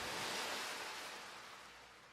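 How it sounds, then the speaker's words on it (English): A splash-of-water sound effect opening the chorus of a summery pop song, a broad watery wash that hits at full strength and slowly fades over about two seconds, heard alone. "a splash, like a splash of water going."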